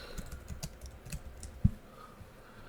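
Soft keystrokes on a computer keyboard while entering a plugin search term, a quiet sparse run of clicks with one sharper tap near the end, no talking.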